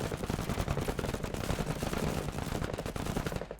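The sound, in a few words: machine gun fire in MENACE video game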